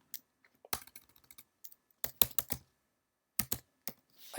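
Bursts of keystrokes on a computer keyboard while entering a domain and password during a Mac agent install, with clustered clicks separated by pauses, close and fairly quiet.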